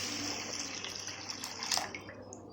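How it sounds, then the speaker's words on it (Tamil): Water is poured into a pan to make a sugar syrup, a steady close splashing trickle that swells near the end. "அளவு தண்ணி ஊற்றிக்கிறேன்."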